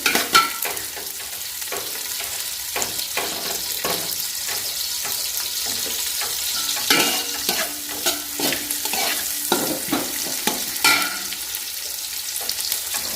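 Cashews and raisins frying in oil in a pan, a steady sizzle running throughout with repeated scraping stirs of a utensil close by, and no talking.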